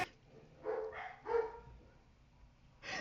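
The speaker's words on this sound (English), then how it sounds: "my dog started barking as soon as this happened" A dog barks several times in a short burst, a few fairly clear yelps spaced about half a second apart and then one more after a pause, heard at moderate distance in an indoor room.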